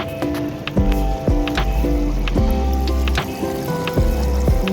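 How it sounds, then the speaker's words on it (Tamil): Water pours and gurgles steadily through a high-speed filter in a home aquarium, close and continuous, with bubbling pulses and faint dripping on top. "இதுதான் ஃபில்ட்ரேஷன், ஹை ஸ்பீட் ஃபாஸ்ட் ஃபில்ட்ரேஷனுங்க."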